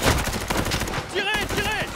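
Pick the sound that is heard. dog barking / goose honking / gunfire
gunfire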